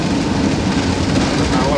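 Steady rain pours over open countryside on a drive between Tenterfield and Uralla, New South Wales, a loud continuous hiss and patter with low rumble underneath and no break.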